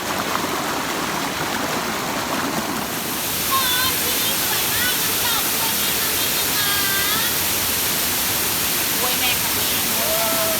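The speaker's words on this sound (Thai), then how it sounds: "เหมือนมีเสียงน้ำตก ฟังตลอดทั้งคืนเลยนะ" The waterfall at Huai Mae Khamin campsite in Kanchanaburi gives off a steady, full rushing roar, with thin chirping tones rising above it now and then.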